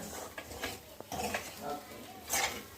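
Beans and lentils stirred in a cooking pan with a utensil, making scraping, clinking and shuffling sounds in short uneven strokes at close range.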